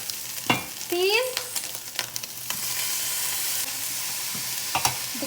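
Frozen peas, carrots and corn being stir-fried with cooked egg for Spam fried rice, with a steady hiss of sizzling and a few clanks of utensil against the pan.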